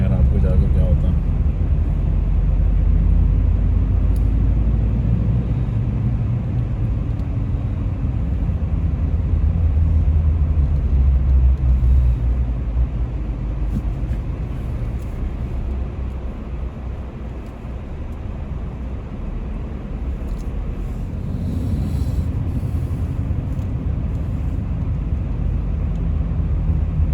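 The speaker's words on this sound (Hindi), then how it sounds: "बहुत ज़्यादा ट्रैफिक हो गया आजकल" Heavy road traffic in a jam: a continuous low rumble of engines that swells and dips slightly over nearly half a minute, with an indistinct voice underneath.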